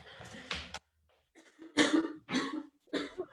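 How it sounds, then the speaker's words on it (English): A woman coughing during a lesson, several close, sharp coughs in short bursts with a brief pause between them. "I was coughing a little bit"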